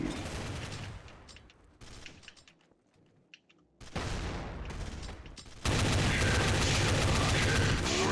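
AUG rifle gunfire in the video game Counter-Strike: Source: bursts of rapid, loud shots broken by brief quiet gaps, ending in a dense, continuous stretch of automatic fire.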